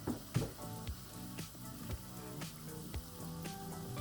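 Congolese donut dough frying in hot oil, a steady close sizzle with soft bubbling and a few sharper pops and clinks over about four seconds, no talking.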